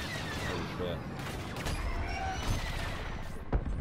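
Rapid cannon fire from starfighters in a Star Wars Battlefront II dogfight, a dense crackling barrage of shots and blasts under a constant rush of engine and battle noise, with a voice talking over it.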